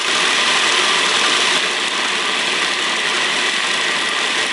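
Food processor running continuously as it grinds peanuts into homemade peanut butter, a loud, steady motor whir with a gritty churning texture that holds without pause, with no voices.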